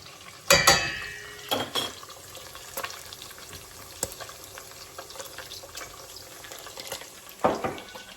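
Bacon browning in a pan for Southern fried cabbage, a quiet steady sizzle broken by a few sharp bursts of spattering and clattering utensil noises.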